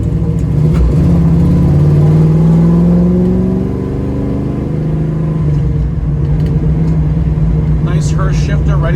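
A 1967 Chevrolet Camaro with a Hurst shifter drones loudly from inside while driving, its engine pitch rising steadily, then dropping at a shift before settling into a steady cruise.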